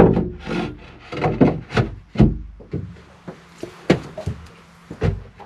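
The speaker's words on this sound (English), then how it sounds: "Throw the shelf on there, and it should just rest on those nicely." A wooden shelf is set onto the supports of a folding salon table on a Catalina 36 sailboat, giving a series of close wooden knocks, rubs and scrapes in uneven rhythm.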